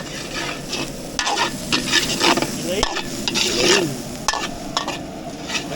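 Meat fries in hot oil until golden brown, giving a loud, busy sizzle broken up by scraping and stirring strokes and occasional sharp pops, close up and with no talk.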